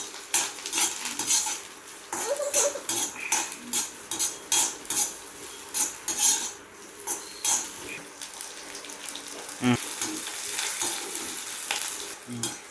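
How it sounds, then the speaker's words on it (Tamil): Garlic fries in a pan after dried red chilies are removed, for a dosa spice powder; a steady sizzle runs under repeated scraping and clinking stirs from a utensil. "காஞ்ச மிளகாயை எடுத்துட்டு பூண்டை வறுக்கவும்."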